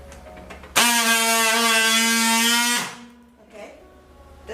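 A DD19 heavy duty battery strapping tool runs its tensioner on a strap, giving a loud, steady mechanical whine for about two seconds. It cuts off abruptly and is followed by quieter handling noise.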